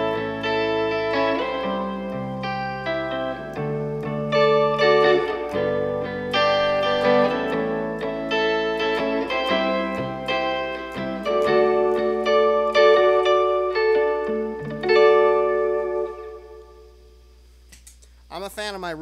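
Electric guitar through a pedal board with shimmery plate reverb from a cathedral reverb pedal, playing a flowing run of ringing notes and chords that fades into a lingering reverb tail near the end, with no talking.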